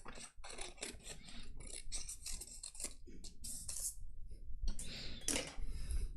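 Scissors trim card stock at a crafting table, a close series of crisp, irregular snips and rasping cuts running steadily for several seconds, with faint handling rustle between strokes.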